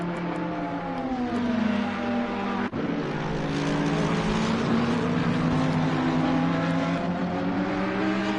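Race cars in the NXTGEN Cup drive through the Oulton Park chicane, with a loud, continuous engine drone that shifts pitch as the cars brake and accelerate, and one brief sharp knock.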